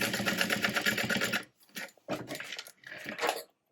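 A sewing machine runs a steady burst of stitching on a cross-body sling bag, then stops and resumes in two shorter runs, fairly close and loud with no talk over it.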